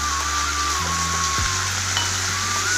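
Capsicum and coriander sautéing in a hot pan for chutney, a continuous close sizzle with low steady hum beneath, no voices.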